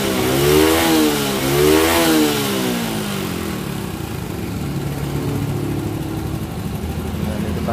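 A motorcycle engine revving as the throttle is twisted, rising and falling twice in strong, close surges before settling into a steady idle.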